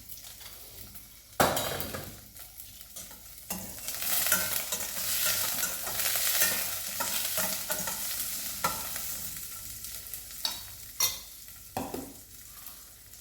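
Cumin seeds frying in a pan for a tomato, raw mango and ajwain leaf chutney, crackling and sizzling steadily with stirring scrapes and occasional clinks of a utensil against the pan, close by.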